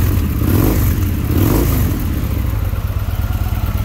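A 2013 Victory Vision Tour ABS motorcycle engine revs through its stock exhaust, a loud, steady, close rumble with a couple of throttle swells early on.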